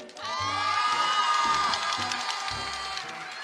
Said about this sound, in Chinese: 来，小伙伴们，哪边想看的，来欢呼声大一些。